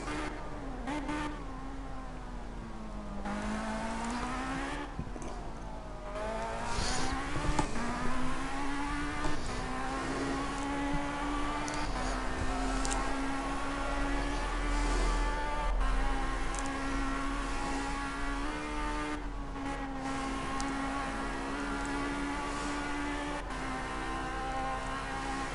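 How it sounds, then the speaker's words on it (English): Race car engine in the Project CARS racing game, a continuous loud engine note that rises and drops through quick downshifts, steady throughout with no voices. "2 early downshifts, nice and quick"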